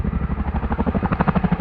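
A Chinook tandem-rotor helicopter flying at an airshow display gives a steady, rhythmic rotor thudding with a throbbing low beat that stays loud and close throughout.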